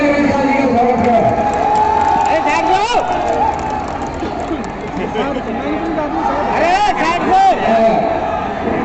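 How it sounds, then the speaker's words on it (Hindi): Large outdoor rally crowd at a public meeting in Mainpuri welcoming Amit Shah with sustained cheering, whoops and clapping under constant babble, loud and dense throughout, with shouting voices rising over it. "सभी लोग तालियां बजाकर अमित शाह जी का स्वागत है।"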